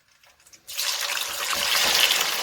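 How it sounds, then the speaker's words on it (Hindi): Surmai fish pieces dropped into a cup of hot oil, a broad hissing sizzle bursting in after a quiet start and holding steady and close with no talk over it. "ऑयल गर्म हो गया, मैं इसमें मछली की बोटियां डाल के और इनको फ्राई कर लूंगी 5 मिनट"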